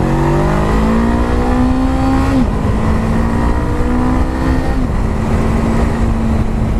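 A Honda CB500R motorcycle engine running at a demo day, a steady tonal drone with two pitch shifts as the throttle drops and settles, constant and close.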